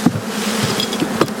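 Caucasian honey bees buzzing close by during a spring hive inspection in misty, overcast weather, a dense continuous drone with individual bees flaring louder as they pass near.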